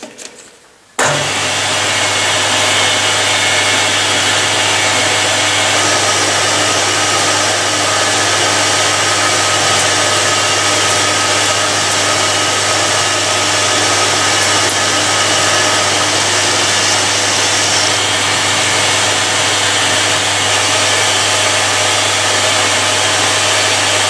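A lathe runs steadily at 625 rpm while machining an axle for a garlic picker, producing a loud, continuous motor whine and low hum that starts abruptly and holds constant throughout, with no talking.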